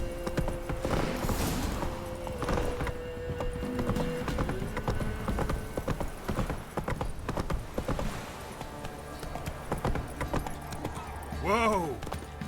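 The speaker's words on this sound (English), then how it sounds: "Whoa there, Roach" Horse hooves clip-clop steadily in The Witcher 3, a continuous trotting rhythm with a neigh near the end, under a voice talking to the horse and background game sound.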